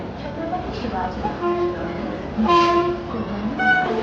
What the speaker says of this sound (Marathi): मित्रांनो आपली गाडी आली आहे